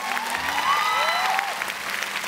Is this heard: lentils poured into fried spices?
no